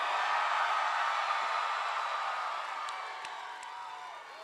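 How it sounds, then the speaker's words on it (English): Graduating class of 2019 at a commencement ceremony roaring in a loud, sustained crowd cheer with whoops and some clapping, washing broadly through a large hall and gradually easing off. "I want to hear the loudest, most earth-shattering cheer from the class of 2019"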